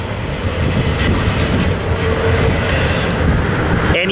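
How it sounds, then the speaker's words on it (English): Union Pacific 1989 heritage unit train passing at Cajon Pass, a loud, continuous rumble of rolling railcars with wheel squeal and occasional rattles, heard close and without voices. "this is our final train today. Unbelievable chasing 89 from West Colton up to the summit of Cajon Pass"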